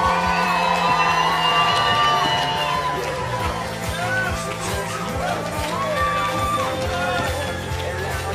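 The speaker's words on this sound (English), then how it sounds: "Why don't we give Jesus a big round of applause?" A church congregation cheers and shouts, a dense crowd roar with whoops and raised voices that fills the room steadily throughout.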